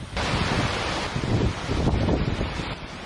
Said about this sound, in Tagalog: Rinig din ang pagsipol ng hangin.